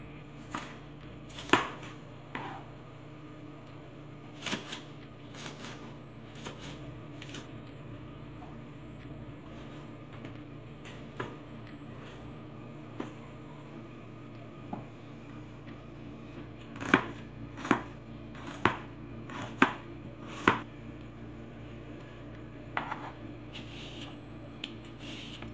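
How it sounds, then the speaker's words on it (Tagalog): A knife chops tomatoes and onion leaves on a board for a camote tops salad, with quiet, irregular cuts that come in clusters and grow sharper later, over a faint steady room hum. "So mag-start muna tayo maghiwa guys."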